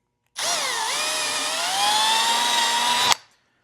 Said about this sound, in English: I'm just gonna drill this hole out here without drilling into my hand.